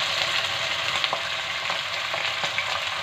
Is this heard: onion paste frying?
yes